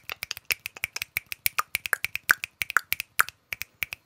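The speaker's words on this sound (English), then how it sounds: "snap your fingers or click your tongue." Fingers snap rapidly during a classroom movement break: dozens of crisp, dry clicks in quick, slightly uneven succession, close up and clear against silence.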